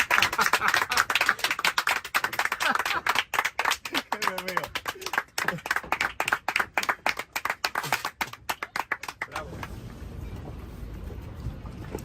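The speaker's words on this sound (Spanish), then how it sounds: "el aplauso estaba muy bien" Dense clapping from a small group fills the room for about nine seconds, loud and close, with a few excited voices calling out over it before it stops abruptly into quiet room tone.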